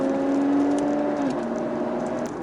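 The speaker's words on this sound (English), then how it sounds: "It's just wheel spin just now." A car's wheels spin briefly, the engine whining in a steady rising tone that drops and slips partway through, fairly faint against steady road noise.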